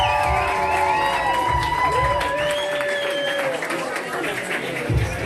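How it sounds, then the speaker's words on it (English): Audience at an Ottawa and Hamilton championship event applauds and cheers, a steady roar of clapping with whoops and shouts carrying through, while voices and some tonal sounds ride on top for the whole stretch. "Can we get a round of applause for rounds 1 and 2?"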